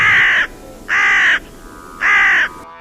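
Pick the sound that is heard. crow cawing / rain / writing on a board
crow cawing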